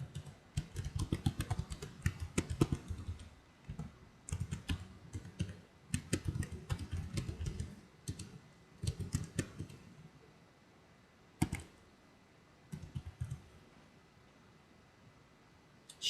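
Rapid bursts of keystrokes clatter on a computer keyboard, close and fairly quiet, with short pauses between runs and a few isolated sharper clicks.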